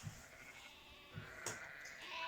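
Goats bleat in a field, a few short calls spaced out over a quiet outdoor background, moderately distant and alone without talk.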